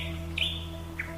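Bird calls of unknown species in warm, dry air scented with wildflowers: two short high chirps, the first a longer whistled note and the second a brief tweet, over a steady low electrical hum.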